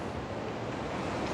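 Waves break and wash continuously at Onze Cascades waterfall beach on Reunion Island, heard as a dense, steady surf roar with some wind noise and no voices.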